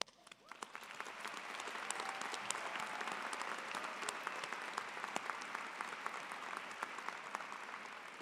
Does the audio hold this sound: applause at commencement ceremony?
yes